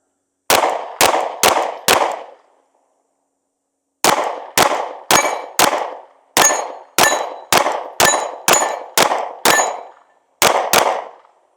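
Sig P365x Macro Comp compact pistol firing at steel targets: sharp loud shots with ringing clangs, a quick burst of four, a pause, then two long rapid strings and a final pair, close and alone.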